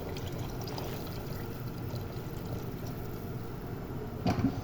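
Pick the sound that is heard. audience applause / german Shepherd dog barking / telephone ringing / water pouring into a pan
water pouring into a pan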